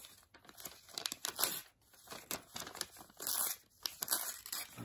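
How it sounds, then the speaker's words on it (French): A sheet of paper has its edges cut off up close, giving crisp crinkling and tearing snips in an uneven rhythm, with no talking. "On prend le morceau de papier et on va couper les bords."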